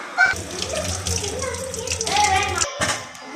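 Peeled raw plantains for pakoda are rinsed under a running kitchen tap, water splashing steadily into a sink for a few seconds with a brief break near the end.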